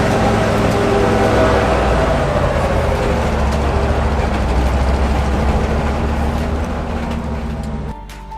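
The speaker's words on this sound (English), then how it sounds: "Now it's Steven's turn in his K20 truck" A Chevrolet K20 truck on 35-inch tires climbs an off-road trail in Western Colorado, its engine a loud, steady, rumbling drone close by that cuts off near the end.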